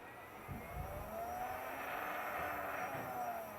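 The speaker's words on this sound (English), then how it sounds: "you can hear the motor going back and forth" A small 6-volt electric motor driven by an Adafruit Motor Shield whirs steadily, with a faint rising and falling tonal whine as it runs back and forth, continuous and fairly quiet, with no speech.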